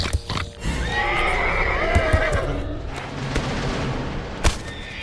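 A horse in a cartoon neighs loudly with a long whinny while hooves clop and thud around it, ending in a sharp impact.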